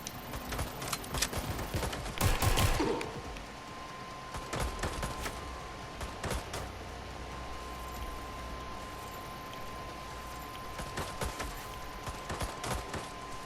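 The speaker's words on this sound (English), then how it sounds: "Shots fired!" Scattered video game gunfire from Watch Dogs Legion in a tense firefight, with a cluster of sharp shots early on and sporadic distant cracks after, over a steady low background hum.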